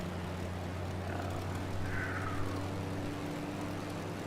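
Light aircraft engine idling after the throttle is cut in the MSFS 2020 flight simulator, a steady low droning hum with a faint whine, even and continuous with no talk.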